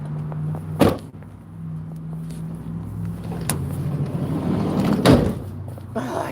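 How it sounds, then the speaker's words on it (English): A stubborn door is pushed shut repeatedly, giving several sharp thumps and bangs over a steady low hum, with some muffled background noise between the impacts. "I can't ever shut this fucking door"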